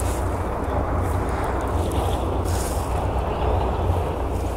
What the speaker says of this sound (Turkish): Rüzgar sesi var ya, acayip geliyor burada.